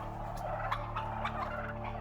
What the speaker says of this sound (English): Here we have McKenna turkeys.